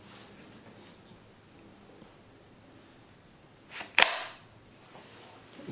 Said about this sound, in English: What I did just now is just push the barrel tight back in